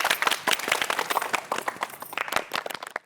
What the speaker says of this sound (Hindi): जीजा जी के लिए फिर से ताली बजा दो।